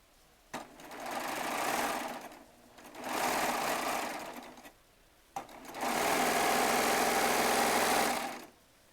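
A sewing machine runs in three bursts while stitching a row of jelly roll quilt squares together, each burst a steady close whirring drone, the last one longest, with short pauses between.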